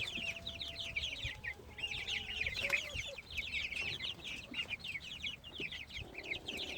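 Growing chicks in a coop cluck and peep almost without pause, a busy, fairly quiet flock chatter close by with no talking.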